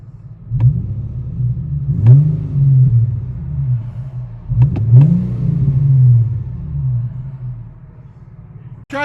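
From inside a 2006 Infiniti G35 with dual exhaust and muffler delete, the engine revs in a few muffled, rumbling swells with pauses between, moderately loud with faint clicks.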